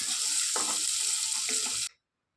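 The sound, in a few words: sliced onions frying and being stirred in the pan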